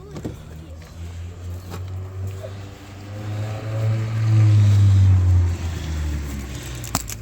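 A 2018 Ram 2500 Laramie pickup truck engine idles steadily with a low rumble that swells briefly as it revs, then settles back, fairly close by.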